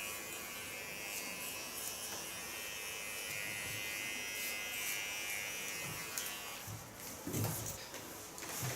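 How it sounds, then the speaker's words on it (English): A Keone hair clipper buzzes during a nape shave, a faint, steady electric hum with a few soft handling bumps toward the end. "On this Keone clipper there's also a special blade to do tattoo lines."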